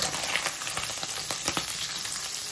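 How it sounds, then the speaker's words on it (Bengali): Paneer pieces fry in hot oil with a steady, close sizzle and crackle, punctuated by sharper spits and pops, with no voices present. "পনিরগুলো একটু ভেজে"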